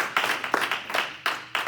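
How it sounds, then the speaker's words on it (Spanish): Scattered hand claps from a small church congregation during a Spanish-language service, a handful of sharp, fairly close claps in an uneven rhythm with no talking. "Denles un mejor aplauso al Señor en esta hora."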